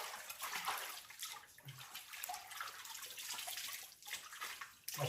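Fresh, clear water flowing inside a cave at night, a continuous splashing rush with gurgles and small drips, close and even throughout.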